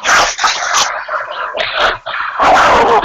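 A dog barks and yips repeatedly in loud, close bursts with short gaps between them, no voices alongside.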